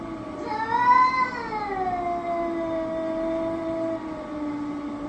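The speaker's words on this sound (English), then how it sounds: "My cat started tweaking because we got a visitor." A cat yowls in one long, drawn-out wavering cry, rising and then sliding lower while it holds steady, loud and close with no talk over it.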